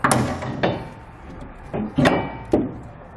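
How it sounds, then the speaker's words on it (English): Heavy steel Curt trailer hitch receiver being lifted into place under a 2016 BMW X5, giving several loud, sharp metallic knocks and thuds spaced irregularly, close by with no talking. "with an extra set of hands, we'll go ahead and put our hitch into place"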